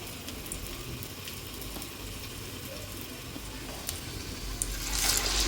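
Urad dal vada batter frying in hot oil, a steady close sizzle and hiss running throughout, brightening toward the end as more batter goes in.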